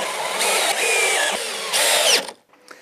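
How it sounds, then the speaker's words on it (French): A power screwdriver drives 4x20 countersunk screws into the hinges of a wood-and-metal compost bin, with three loud whirring bursts and short pauses, ending in a brief slowdown and quiet. "on va pouvoir visser les charnières"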